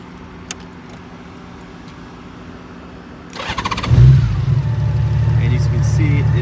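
A Honda Goldwing 1800 ABS motorcycle engine cranks and starts partway through, then settles into a loud, steady close-up idle after a quiet opening.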